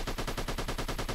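Rapid automatic fire from an AK rifle in the video game Goatman: a steady, unbroken stream of about a dozen quick, evenly spaced shots, loud and close, with no other sound.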